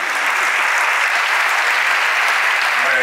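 An audience at a film presentation at the Seminci festival claps in loud, dense, sustained applause that fills the whole stretch evenly.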